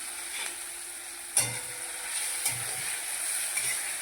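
Garlic and ginger-chili paste fry in a pan with a steady soft sizzle, broken by a few close scraping knocks as the mixture is stirred, with no talking.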